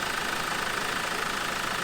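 Land Rover Defender engine running steadily with a dust-clogged airbox starving the turbocharger, a constant loud drone with a hissing, airy character and no talk.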